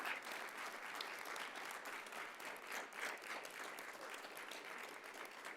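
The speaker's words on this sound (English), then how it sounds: "a big round of applause" At a city council meeting, a crowd applauds a girls' team with dense, sustained clapping that stays even throughout, heard somewhat distantly at a low level.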